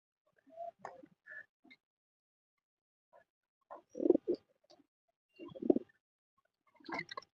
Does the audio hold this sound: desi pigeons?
yes